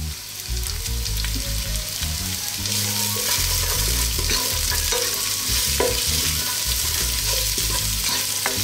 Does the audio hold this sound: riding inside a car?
no